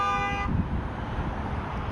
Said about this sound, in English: yeah, get some honks over here.